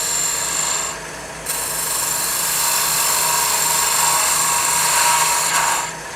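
A woodturning gouge cuts a custom walking stick cap on a lathe, giving a steady, loud rasping scrape with a short dip partway through, then continuing evenly until it fades at the end.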